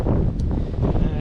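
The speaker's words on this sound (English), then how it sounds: "Definitely getting a bit windy" Strong wind buffeting a microphone outdoors during a drone flight, a loud continuous rumbling roar with gusty swells and no speech.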